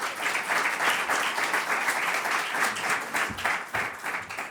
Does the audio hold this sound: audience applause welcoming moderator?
yes